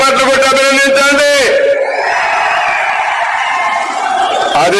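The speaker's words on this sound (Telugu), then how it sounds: "గట్టిగా చప్పట్లు కొట్టి అభినందించండి" Crowd at a public meeting in Dharmavaram erupts, a shouted voice over the mass giving way to loud, sustained cheering and applause that fills the space without pause.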